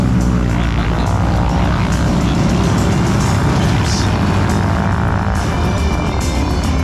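Propeller aircraft engines idle at the Garmin KC Airshow 2022, making a loud, steady, continuous drone with a low rumble that stays constant throughout, with no talk over it.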